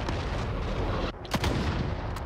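Heavy, continuous gunfire from sniper fire in a video game, loud and dense throughout with a brief dip midway before more booming shots.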